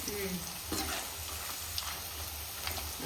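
Thin chips sizzle and bubble in hot coconut oil, a close, dense, even crackle with a few light knocks of a spoon against the pan and no voices.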